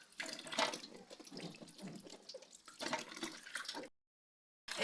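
Eggplants washed one at a time under a running kitchen tap: steady splashing water in uneven bursts for nearly four seconds, then a brief silence before the flow returns.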